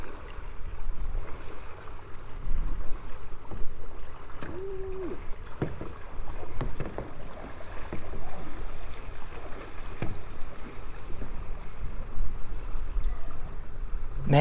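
A paddle kayak pushing through a strong rip current in saltwater surf, with steady rushing water and wave wash throughout, occasional splashy paddle strokes and knocks against the hull, fairly close and continuous.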